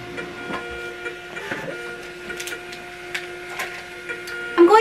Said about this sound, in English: so my labels are gonna print right here